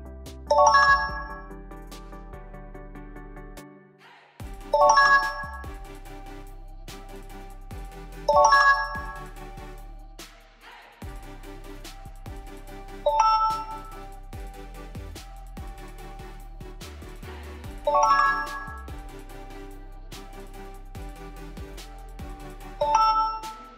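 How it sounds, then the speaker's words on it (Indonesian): A Samsung phone on One UI 7 plays its new charging chime six times, each a bright rising ding over a soft sustained backing tone, spaced about four seconds apart. "penambahan sound effect yang baru saat kita melakukan pengecasan handphone"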